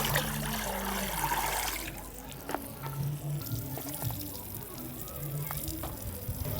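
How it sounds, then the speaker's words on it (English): Water from a watering can splashes and trickles onto a garden bed, a soft steady pour with scattered drips and faint background sounds, no talk heard. "We can do this using the watering can, like this one."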